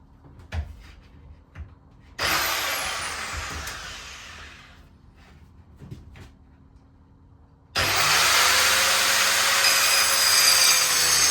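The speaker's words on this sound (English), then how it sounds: "Right, I'm just trimming it down to length now." A power saw cuts a wooden board to length for a narrowboat galley fit-out, running in two loud sustained bursts separated by quieter knocks and handling noises.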